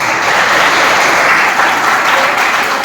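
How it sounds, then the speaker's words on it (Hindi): A crowd at a Haryana foundation-day gathering in Narwana claps loudly and continuously, a dense, close wash of applause with no speech over it. "सबसे पहले इनके लिए जोरदार तालियां"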